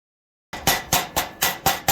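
A hammer strikes a steel Christmas star during cleaning, landing five sharp, loud metallic blows at an even pace after a half-second of silence.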